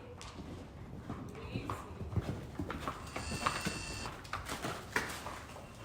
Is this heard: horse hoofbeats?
yes